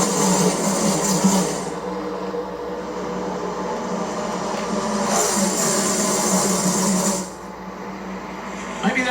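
NASCAR Cup Series cars roaring through a restart at Darlington, a dense engine drone with cars sweeping past in waves while a commentator talks over it.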